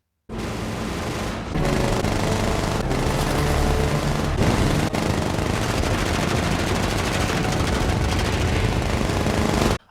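Spitfire machine guns firing in a wartime dogfight against a Heinkel bomber in the film Dunkirk: loud, dense, sustained rattling bursts with a continuous engine roar, running almost unbroken through the clip.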